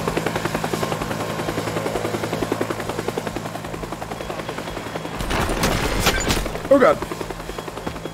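Attack helicopter in a video game thrums steadily throughout while a player's voice exclaims in alarm, with a louder burst of gunfire or impact near the end.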